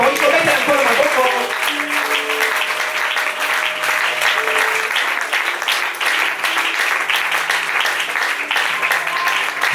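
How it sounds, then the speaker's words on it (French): A church congregation applauds to acclaim the Lord, sustained loud clapping and cheering filling the whole stretch, with musical tones and voices mixed underneath. "Est-ce qu'on peut acclamer le Seigneur?"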